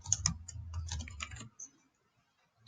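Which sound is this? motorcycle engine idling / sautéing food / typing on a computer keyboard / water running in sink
typing on a computer keyboard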